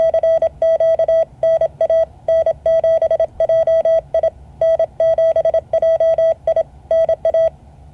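A Morse code signal plays as a run of clear, evenly pitched beeps, short and long, grouped by brief pauses. It is loud and close with no talk over it.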